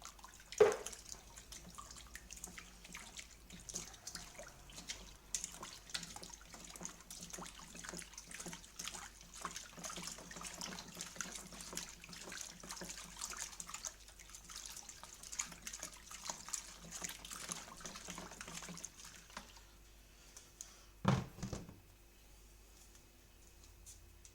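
Water trickles and drips steadily as hot home-brew extract cans are rinsed out, a soft continuous running sound with a brief louder splash near the end.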